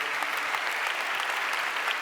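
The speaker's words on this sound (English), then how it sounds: "Could I get a huge round of applause for our mentors and advisors and faculty?" Steady applause from a conference audience at the closing remarks of day two of the Lean Startup Conference, thanking mentors, advisors and faculty, dense and even throughout without talk.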